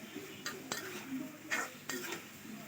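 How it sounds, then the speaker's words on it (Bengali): Mango pieces being fried and turned in a pan for pickle, a soft sizzle beneath repeated clinks and scrapes of a utensil against the metal, spaced unevenly, with no speech. "আমগুলো দেওয়ার পরে একটু ভালো করে ভাজবো, হালকা ভেজে নিব আমি আমগুলো। দেখতেই পাচ্ছেন আমি ভালো করে নেড়ে নিচ্ছি।"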